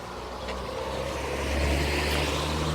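A car passes nearby outdoors, a broad rushing roar that swells gradually and stays loud to the end.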